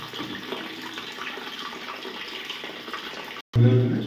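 Steady rushing water fills the clip as a toilet tank refills, then breaks off abruptly near the end as a louder, lower sound takes over.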